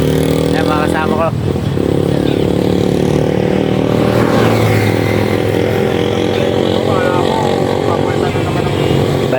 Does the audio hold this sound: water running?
no